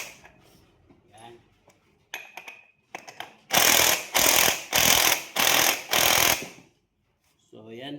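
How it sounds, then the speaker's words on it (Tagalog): Impact wrench used while installing a torque controller on a scooter, firing in five loud, close rattling bursts separated by short pauses, with softer clicks and handling noise before and a voice at the end. "I-set nyo lang na mahina na torque yung impact nyo."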